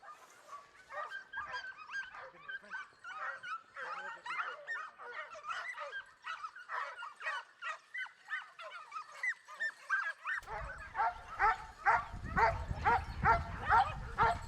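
Hunting dogs at a boar hunt bark and yelp repeatedly in fast bursts, first at a moderate distance and then louder and closer with rough rustling underneath, with a voice speaking over them.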